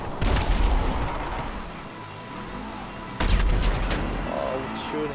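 Tank cannon fire in GTA V Online booms twice, close and heavy, each blast followed by a rolling rumble and debris clatter, with the second shot landing about three seconds after the first.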